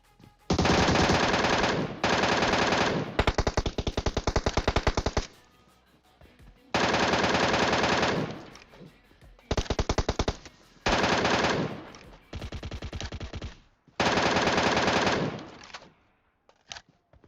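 An M762 assault rifle in the mobile game PUBG Mobile fires loud, rapid automatic bursts, about eight sustained volleys of one to two seconds each separated by short pauses, with no talking.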